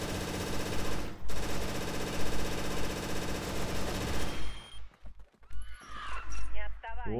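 Rapid automatic gunfire in the shooter CrossFire during a soldiers-versus-mutants battle: dense, continuous bursts for several seconds, then scattered shots as a voice talks over the game.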